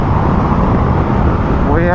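A 2025 Honda GB350S motorcycle cruising on a highway in fourth gear: a steady, dense roar of engine and wind rushing throughout, with a voice coming in briefly near the end.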